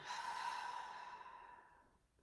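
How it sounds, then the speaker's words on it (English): A single slow, deep breath exhaled softly and close, a breathy sigh that fades gradually to quiet. "take a second and then 3 deep breaths in and out"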